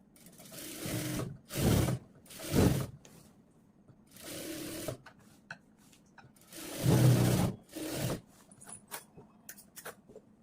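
A sewing machine stitches the neck onto a cut top in several bursts of rapid whirring, each a second or two long, separated by quiet pauses.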